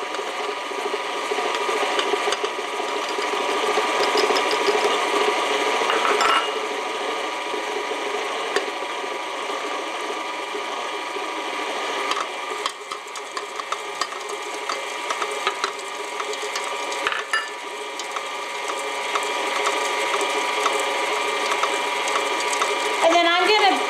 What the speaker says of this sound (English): And then I'm going to beat this until it's light and fluffy.